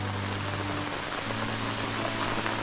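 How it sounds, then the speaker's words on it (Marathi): Steady rain falls in a Konkan forest, a dense, even hiss holding at one level throughout with no voices. "पाऊस आला"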